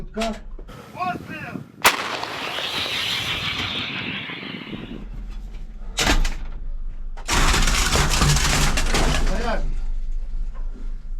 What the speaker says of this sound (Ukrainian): Давай один снаряд вогонь.